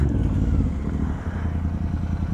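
Several motorcycles, superbikes together with a KTM Duke 390, idle and rumble close by with a steady low engine drone, slight revving and some clatter, and no one speaking.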